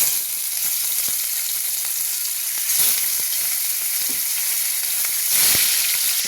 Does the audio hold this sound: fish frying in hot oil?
yes